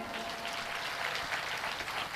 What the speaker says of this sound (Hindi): अब देखो आपके लिए हम ताली बजाएंगे तो ज़्यादा आवाज़ नहीं आएगी